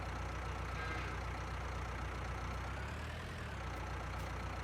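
A tractor engine idles in Farming Simulator 19, a steady low mechanical hum that holds evenly throughout with no voices.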